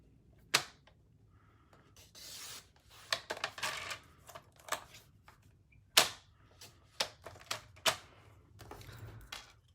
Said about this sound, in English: Let me cut this out